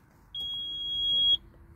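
The monitor buzzer of a Komatsu PC220-7 excavator sounds as a single steady, high electronic beep held for about a second. It is loud and close and stops abruptly, with faint machine hum around it.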